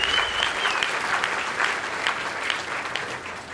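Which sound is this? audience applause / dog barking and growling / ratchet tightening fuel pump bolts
audience applause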